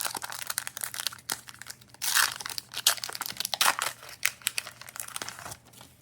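A Premier League trading card pack wrapper being torn open and crinkled, bursts of crisp plastic crumpling and tearing in irregular handfuls, close to the mic with short quiet gaps between.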